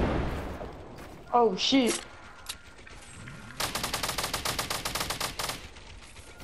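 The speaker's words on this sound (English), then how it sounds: "I'm gonna give you covering fire." Automatic gunfire in the Fortnite video game, a rapid burst of about two seconds of shots following a brief earlier exchange, with players talking over the action.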